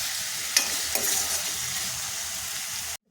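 Pineapple pieces frying in a pan for rava kesari, a steady close sizzle with a couple of sharp stirring clinks near the start, ending abruptly in silence.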